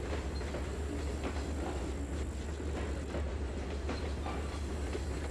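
Train of covered grain hoppers rolling past in the Trainz 2022 railroad simulator, a steady continuous rumble with faint clickety-clack from the wheels, no voices.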